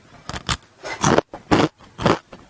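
Crunchy banana stem chips bitten and chewed up close, a series of five or six sharp crackling crunches in uneven bursts with short pauses between, no talking over them.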